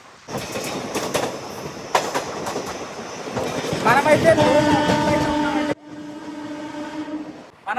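A Guntakal to Markapur Road passenger train (57407) runs fast on the rails, with rattling wheels, clanks and a rising high metallic squeal before a brief drop-off and a quieter rumbling return.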